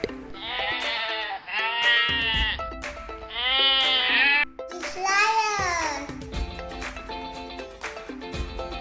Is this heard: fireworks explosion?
no